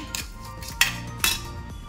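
A metal spoon clinks against a bowl while stirring a raita mixture seasoned with red chilli and salt, giving three sharp distinct strikes spaced apart, close and clear with no talking.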